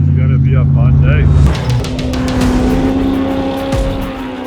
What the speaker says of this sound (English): Now, we're waking up to race cars.